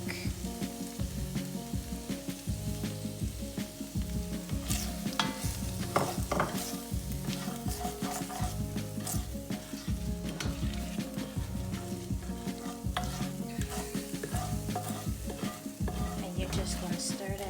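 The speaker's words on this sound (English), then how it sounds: "Just going to stir that up in there. Give it about a minute." Spices of chili flakes, cumin, coriander and turmeric being stirred in a hot frying pot for a vegan sweet potato stew, a continuous close sizzle with soft scraping, no talk.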